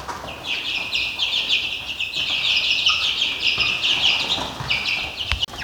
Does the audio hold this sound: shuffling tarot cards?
no